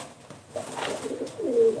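Game pigeons at a bird auction give soft, close coos in a short run, with faint background noise around them.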